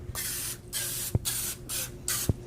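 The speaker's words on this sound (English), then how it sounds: "So we're going to spray these." Several hissing bursts of cooking spray into egg cups in quick succession, close and steady, with a light tap between sprays.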